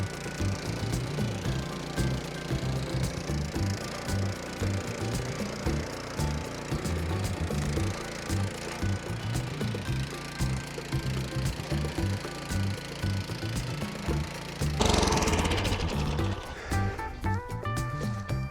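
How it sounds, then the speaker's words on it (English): A Troy-Bilt tiller's small engine runs steadily and close by with a chugging low throb and mechanical clatter, a brief louder burst near the end. "We cranked up the Troy-Bilt tiller, again, in one pull."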